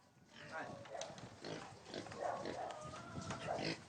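Pigs on a small family pig farm in Romania, with grunts and squeals rising through a steady, fairly loud barn din while a voice talks over them throughout.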